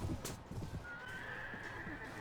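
Horse in the A Clash of Kings Warband mod game, with a clear neigh and clip-clop hooves up close amid battlefield noise, followed by a faint sustained tone.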